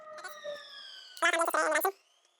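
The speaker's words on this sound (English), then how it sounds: "So there is another siren. Let's wait for that to pass." An emergency vehicle siren passes outdoors, its steady wailing tones swelling loud for under a second before fading away, with no talking over it.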